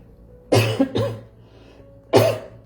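Three sharp coughs, two in quick succession and a third after a short pause, close and loud with no talking.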